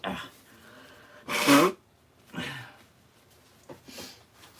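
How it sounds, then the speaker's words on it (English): A person blows their nose in a short, forceful honk, with quieter snuffles and sniffs before and after it, close up. "Sorry, I gotta blow my nose again."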